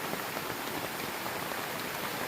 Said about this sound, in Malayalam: മഴ പെയ്തുകൊണ്ടിരിക്കുകയാണ്. ചറപറ മഴയാണിപ്പോൾ.